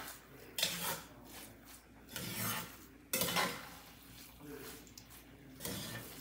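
Barley, tofu and spinach are mixed in a pan, with repeated scraping strokes of a utensil in bursts, some soft clinks and a faint sizzle between strokes, close by.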